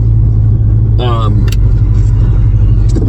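A 1981 Aston Martin V8 Volante's engine hums with a steady, smooth low rumble while driving, with a brief voice heard over the engine noise.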